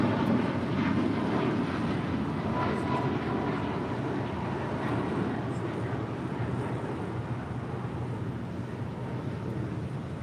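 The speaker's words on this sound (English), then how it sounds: "That was Air Canada Flight 778 heading to Montreal to 737 MAX 8" An Air Canada Boeing 737 MAX 8 departs from LAX, a steady broadband jet roar holding at moderate level for the full stretch, slightly easing toward the end, with no voices.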